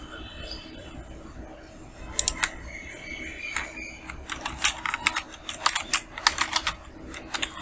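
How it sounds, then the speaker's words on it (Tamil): Keystrokes on a computer keyboard while entering text for a political graphic design, starting as sparse taps and building into quick irregular bursts of close clicking over a low room hum. "அதை வந்து நம்ம டைப் பண்ணிடுவோம்"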